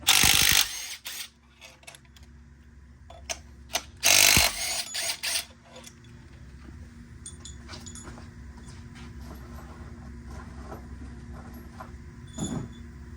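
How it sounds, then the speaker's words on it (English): A ratchet with a 15 mm socket removing bolts on a 2014-2019 GMC Sierra during an alternator job: loud bursts of clicking near the start and around four seconds, then fainter scattered ticks over a steady low hum. "now we're going to use a 15 millimeter. Take off these bolts."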